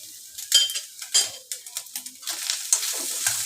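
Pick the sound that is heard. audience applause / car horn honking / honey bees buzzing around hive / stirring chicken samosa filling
stirring chicken samosa filling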